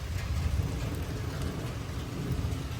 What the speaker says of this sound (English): It's raining out right now. It's like a normal thunderstorm right now.